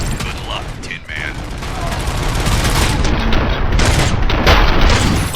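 Gunfire in the video game Robocop Rogue City: loud, dense, continuous bursts of shots and mechanical clatter with a rumbling low end, building in intensity throughout.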